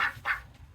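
Ducks by their nest giving two quick raspy squawking quacks, close and moderately loud, in a brief burst.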